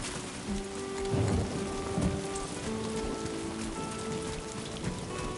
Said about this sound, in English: We gotta get out of the rain.